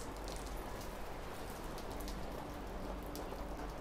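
Steady rain falling at a Tokyo market, a continuous dense hiss of drops pattering on surfaces, loud and even throughout with no voices.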